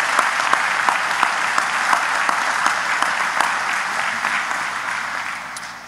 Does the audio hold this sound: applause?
yes